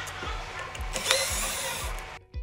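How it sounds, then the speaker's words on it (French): A power drill runs steadily to back screws out of the wheel mount on a JVC56BTN floor scrubber, with a repeating low thump pattern beneath the whine before the motor cuts off near the end. "À l'aide de la perceuse, retirez les vis maintenant la roue en place"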